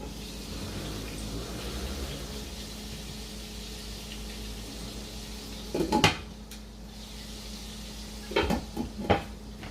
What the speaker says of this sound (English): Fire too hot, because that sounds like it's sizzling